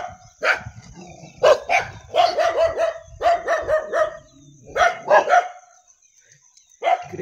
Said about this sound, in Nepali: तीन कुकुरा छन्